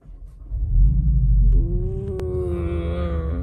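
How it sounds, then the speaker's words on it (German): A 310-horsepower car engine cranks and fires up with a deep rumbling roar, then settles into a steady idling hum; loud and close, no voices. "So hört sich der Wagen an, wenn man ihn startet."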